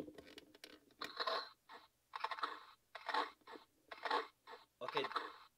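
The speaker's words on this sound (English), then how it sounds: "If you hold it down, he will make a chewing noise." A Spinosaurus dinosaur toy plays its electronic chewing noise, a series of crunchy, gnashing bursts repeating about once a second in a steady rhythm, close and moderately loud.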